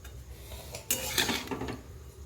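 Chowmein with onions is tossed in a pan, a burst of metal utensil scraping and clattering against the cookware after a quieter start, close and busy with a light sizzle beneath.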